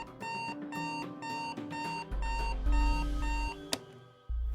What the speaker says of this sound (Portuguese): Lembro de acordar na manhã seguinte com um despertador.